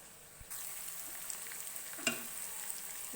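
Ground cumin, Kashmiri chilli powder and salt hit a hot pan for a Bengali chicken curry, setting off a sudden soft sizzle that keeps frying steadily, with a brief stirring scrape partway through.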